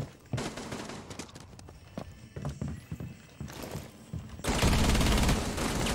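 Gunfire in Rainbow Six Siege aimed at a jammer: dense, rapid shots and clattering impacts in close bursts, ending in a loud sustained volley, with little talk.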